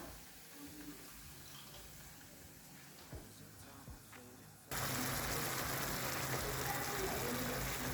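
Water suddenly pours into a cooking pot of pulpy tomatoes for ossobuco with a loud, steady splashing rush after a few seconds of quiet clinking, continuing without pause to the end.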